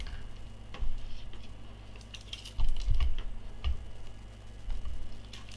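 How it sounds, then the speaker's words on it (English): Plastic buttons and triggers on an EasySMX M10 game controller with Hall effect joysticks give light, scattered clicks, close by, with a few clustered louder presses and no talking. "Nice feeling buttons and trigger, and this is very clicky over here."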